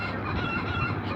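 Chickens clucking in short agitated bursts while being chased and caught, close and fairly steady over a brief moment with no talk.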